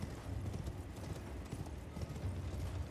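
Horse hooves gallop in Elden Ring with a quick, steady clip-clop rhythm over rumbling movement noise, moderately loud and continuous without talk.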